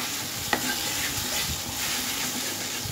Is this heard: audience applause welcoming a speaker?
no